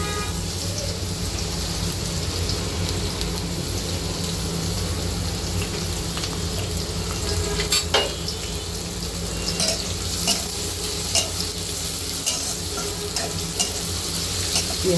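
Onions fry in oil in a kadai wok, a steady close sizzle that carries on without a break, dotted with faint clicks and scrapes of stirring.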